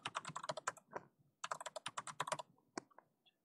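A rapid burst of crisp keystrokes on a computer keyboard entering a password, a dense run of clicks, a brief pause, then another quick flurry tapering to a few final taps, close and clear with no voices.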